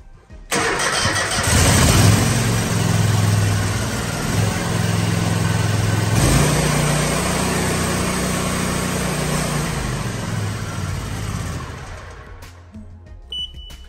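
A Toro zero-turn mower engine cranks and fires up, then runs at a steady loud drone for about ten seconds before cutting off, close and alone.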